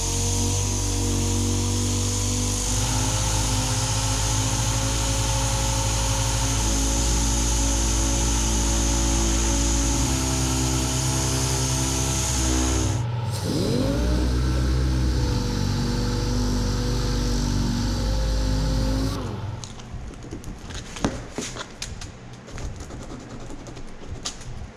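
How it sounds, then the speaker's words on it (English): A DA sander with 80-grit paper strips paint off a bumper, a loud, steady whirring grind that shifts in pitch partway through, then cuts off and leaves softer handling noises. "next I'm going to take the DA with 80 grit"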